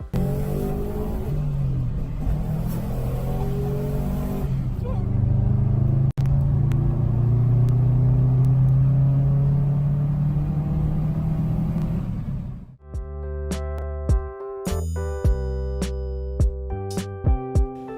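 Turbocharged four-cylinder boxer engine, Cosworth-tuned and rated at 395 horsepower, in a limited-edition car, revving and rising in pitch through gears for several seconds, then a sudden cut to a different, choppy stretch of engine sound.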